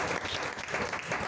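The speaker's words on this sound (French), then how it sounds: "Clap for the Lord." A church congregation clapping together, a brief dense burst of steady applause filling the room at moderate loudness with no talk over it.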